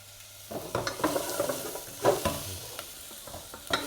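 Carrots and potatoes stirred in a pot for Japanese curry, close scraping and clinking strokes of a utensil in irregular bursts over a soft sizzle, with no talking.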